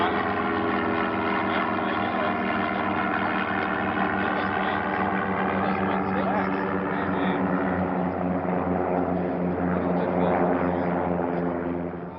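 The Voyager aircraft, powered by Lycoming piston engines, takes off with a steady, loud propeller drone that holds for the whole stretch and slowly shifts in pitch. There is faint narration underneath.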